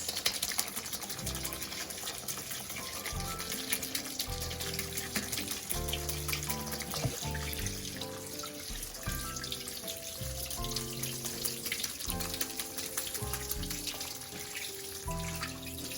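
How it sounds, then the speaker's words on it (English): Canned beans are rinsed under a running kitchen tap, giving a steady hiss and splash of water that continues throughout beneath rhythmic background music. "Give it a good rinse."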